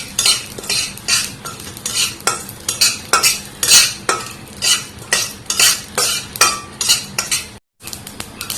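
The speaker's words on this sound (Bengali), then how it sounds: "এর মধ্যে দিয়ে দিচ্ছি লাল সর্ষে। সর্ষেটা একটু ভেজে নেব" Red mustard seeds fried in a pan and stirred with a metal utensil: rhythmic scraping strokes about twice a second over a soft sizzle, close and loud, with a brief pause near the end and no talking.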